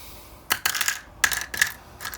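Dice rolled for a board wargame clatter in several short bursts, sharp hard rattles on a table spaced across the moment, with no talk.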